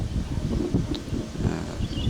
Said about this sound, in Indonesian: Sekarang ada angin lagi.